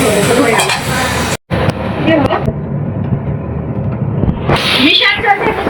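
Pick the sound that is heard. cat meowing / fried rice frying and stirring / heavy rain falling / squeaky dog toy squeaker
fried rice frying and stirring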